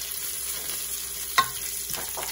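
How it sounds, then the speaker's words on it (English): Chopped bacon sizzles and fries in a pot, a steady close hiss with a single sharp clink or stir midway and another soft scrape near the end, and no talking. "Just gonna slide it right here into the pot until it is crispy and brown."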